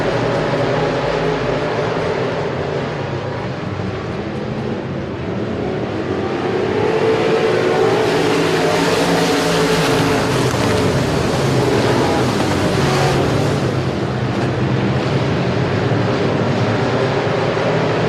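Modified race cars in an American Racer Modified Series race at Sabine Speedway, a dense steady roar of many engines that swells louder about halfway through and holds, with no talk.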